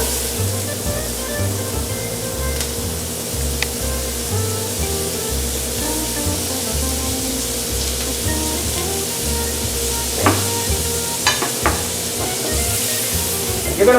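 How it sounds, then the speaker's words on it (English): Onions sauté in a teaspoon and a half of hot oil, a loud, steady hiss of sizzling that holds throughout with a few faint clicks near the end, close by, no talking. "You're going to saute the onion for about 30 to 40 seconds, just until it's golden brown."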